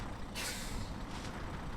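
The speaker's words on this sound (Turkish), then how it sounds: "Şu anda fren yapa yapa gidiyorum." A Fiat Ducato van in the BeamNG.drive game, driven off-road on village roads, gives a short sharp hiss of brake air release, with a second fainter hiss just after, no talk.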